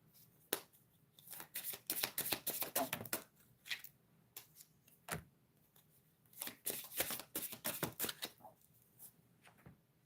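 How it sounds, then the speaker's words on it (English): Twin flame oracle cards being shuffled close by, bursts of quick riffling and flapping paper slaps separated by short pauses, fairly soft with no talking. "I will get some twin flame cards out for the divine masculine and divine feminine."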